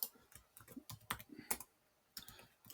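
Quiet, irregular clicks and taps from a computer keyboard as a name and password are typed, with short bursts of keystrokes and a few sharper clacks, heard alone.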